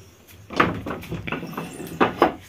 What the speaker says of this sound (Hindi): चलिए पहले दरवाज़ा लॉक करते हैं